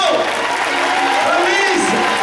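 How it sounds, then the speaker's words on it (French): Crowd applause at the 10 km road race in Soustons, a steady wash of clapping with an announcer's voice over it throughout. "Allez, je veux entendre les applaudissements"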